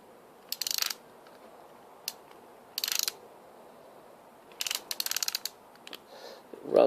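A cap and ball revolver cylinder rolled along an arm gives quick bursts of dry ratcheting clicks, separated by short pauses, close and fairly quiet.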